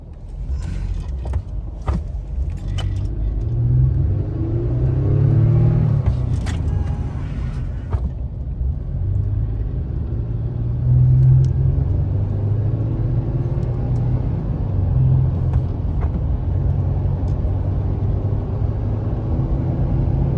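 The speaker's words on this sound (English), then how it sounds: "too many cars are moving too fast around us" Cars driving fast past on a busy road with one lane shut down, a steady low rumble of traffic close by, swells of passing vehicles and a few clicks and knocks from inside a car.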